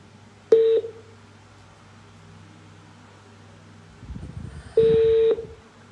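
A telephone number dialled to call back a radio listener, heard as two short electronic tone bursts separated by a pause, with faint handling noise just before the second tone.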